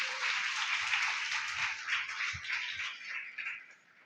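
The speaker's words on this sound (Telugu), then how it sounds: "చప్పట్లు కొడతారు" A church congregation clapping along in a Telugu service, a fairly faint, steady patter of many hands that fades toward the end.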